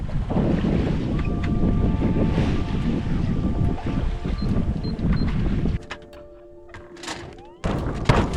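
Steady wind noise buffets the microphone aboard a sailing boat running south under sail with the engine off, with occasional thunks and creaks, easing into a quieter stretch before gusting up again.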